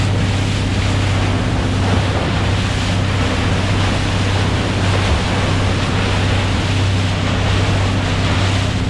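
Sea waves rushing past a boat off Claver, Surigao del Norte, loud and continuous, mixed with heavy wind noise and a steady low engine hum throughout, no voices.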